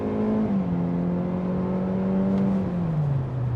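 A 2024 Hyundai Elantra Limited pulling away from a standstill, its engine droning steadily from inside the cabin with a simulated shift dropping the pitch partway through, then a second drop near the end.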